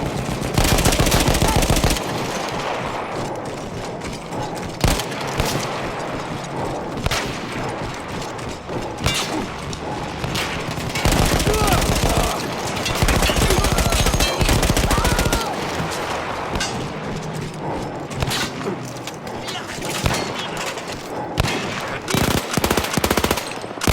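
Machine gun fire in the video game Battlefield 1, a WWI-era mounted gun firing long loud rapid bursts at close range, broken by short pauses, with scattered explosions and battle noise around it.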